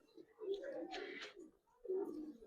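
Giribaz pigeons of the Palla line, silver-feathered, cooing in low, throaty bursts at close range, with a brief brighter flutter mid-clip and a second cooing phrase after a pause.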